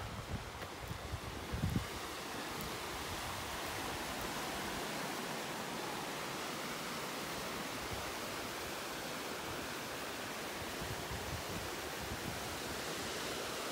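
Broad, steady rushing of the Castleguard River in a mountain meadow setting, a constant wash of flowing water that fills the whole scene with no voices over it.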